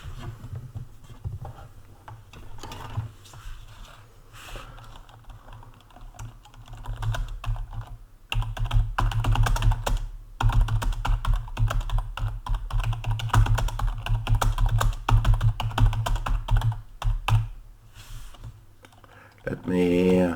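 Typing on a computer keyboard, heard as a close, continuous patter of key clicks in uneven bursts with short pauses, lasting throughout.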